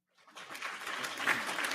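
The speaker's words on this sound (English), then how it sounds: "Give it a round of applause." A studio audience applauds for a guest introduced on a talk show, the clapping building quickly from silence into steady, fairly close applause that holds for under two seconds.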